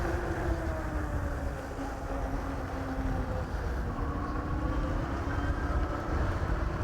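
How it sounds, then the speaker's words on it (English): Steady road and tire noise from a fat tire AIMA Big Sur ebike under way, with a faint electric motor whine running beneath a continuous broadband rumble, close and even throughout. "A little bit of road noise, but between that and the motor, it's really fairly quiet."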